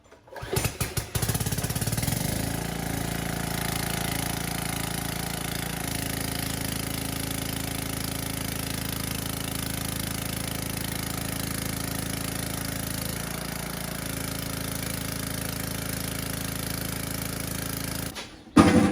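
A small petrol pressure washer engine drones at a steady, loud pitch for the whole stretch, starting with a sputter and cutting off abruptly near the end.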